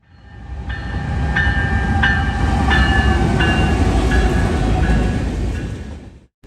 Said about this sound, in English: Here in came CN A440, Chicago to Elkhart, running on NS trackage, with a special surprise leading the way.